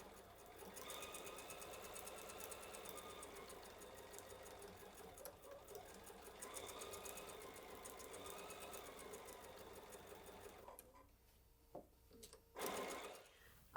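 A sewing machine stitches quilt block pieces together in a quiet room, running in a steady, fast whirring rattle that briefly slows and stops near the end, with a few soft handling knocks afterward.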